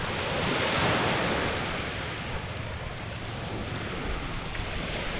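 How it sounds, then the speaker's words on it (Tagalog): Rough sea waves wash onto a deserted pink-sand beach on Sila Island, San Vicente, Northern Samar, a steady broadband surf roar with wind noise on the microphone, loudest near the start and then easing slightly. "Tsaka medyo maalon yung dagat."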